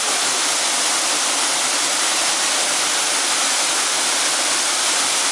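The Eaton Canyon waterfall roars close by as a loud, steady, broadband rush of falling water, unbroken and with no voices over it.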